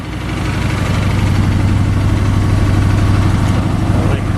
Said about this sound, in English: It's so cold, I'll let it run a little longer at fast idle.